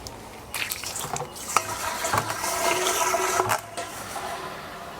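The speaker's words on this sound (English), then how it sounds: "all I'm going to do now is fill them most of the way up with water" Plain tap water runs into home brewing fermenters during cleaning, a rushing, splashing stream with a few sharp knocks and surges, fairly close and continuous.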